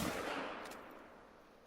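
A single .243 Ranger rifle shot in theHunter: Call of the Wild, a loud broadband blast already in progress that decays into a fading rolling echo over under two seconds.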